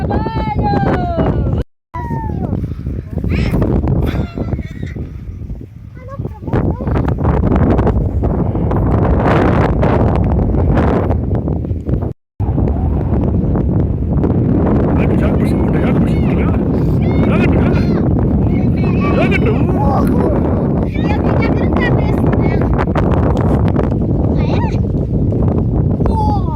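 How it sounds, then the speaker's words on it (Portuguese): Strong gusty wind rushes steadily across the microphone outdoors while a kite flies, a loud continuous roar with only two brief breaks. "o vento tá top hoje"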